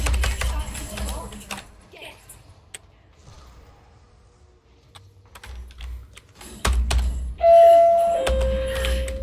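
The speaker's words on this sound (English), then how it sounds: "That's my doorbell." A home doorbell rings near the end with a clear two-tone chime, after a stretch of clattering computer keyboard typing during a game session; a voice speaks at times.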